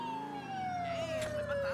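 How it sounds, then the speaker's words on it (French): Police car siren in GTA IV wailing loudly and close, one long sustained tone that slowly falls in pitch, continuous with no talk over it. "j'ai pas éteint ma sirène."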